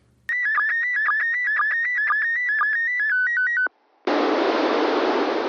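ISS end-of-picture signal on a ham radio: a sequence of bright, stepping electronic beeps in a quick regular rhythm, a brief drop to near silence, then a burst of loud static hiss.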